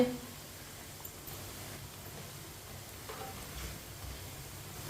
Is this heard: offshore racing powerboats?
no